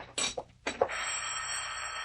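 An old-fashioned telephone bell rings in a 1945 radio drama, two short bursts followed by a sustained metallic ring, moderately loud with a faint hum underneath and no talking.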